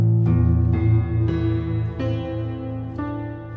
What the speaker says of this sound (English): The piano itself sounds like this.